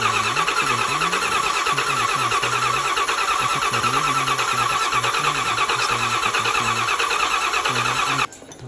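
A car engine being started after repair, cranking and catching into a loud, steady mid-pitched run that continues for about eight seconds before dropping off abruptly near the end, with no talk.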